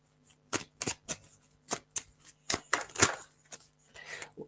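Playing cards shuffled and drawn for a tarot-style reading, a string of crisp riffling flicks and soft slaps in uneven bursts, close and fairly quiet, with no talking.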